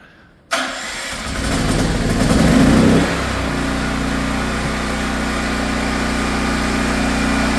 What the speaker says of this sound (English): Now I can start the generator.